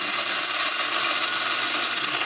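A coffee grinder grinds Hardy Coffee beans, giving a loud, continuous, steady whirring grind with no pauses or voices.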